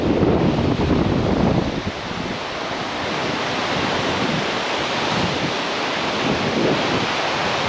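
Surf rolls onto a driftwood-strewn Pacific beach on the Washington coast, a steady loud wash of breaking waves with wind buffeting the microphone, swelling and easing without any talk.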